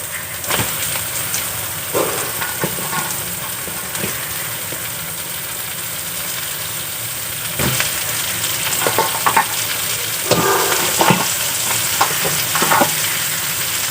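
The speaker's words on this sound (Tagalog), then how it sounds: "Lagyan na natin yung ating alimango lahat." Mud crabs frying in a pan with margarine, a steady loud sizzle and hiss, with scraping and clattering knocks as the pieces are stirred and turned, close up and with no voices.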